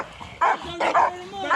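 A hunting dog barks during a hog hunt in a few short, close yelps and bow-wows, loud against a quiet background.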